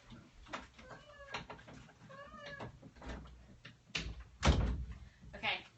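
A door is shut and locked with a heavy clunk toward the end, close by, while a person talks and a cat meows several times in the background.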